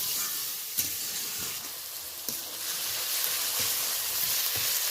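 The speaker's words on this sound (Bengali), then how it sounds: "এবার বেশ কয়েক মিনিট ধরে নাড়াচাড়া করে নেবো যত সময় না পেঁয়াজ টমেটোর কাঁচা ভাবটা চলে যাচ্ছে" Onions and tomatoes sizzle in a hot pan while being stirred, a steady bright hiss with a few sharp scrapes and clicks of the spatula against the pan, moderately quiet with no talking.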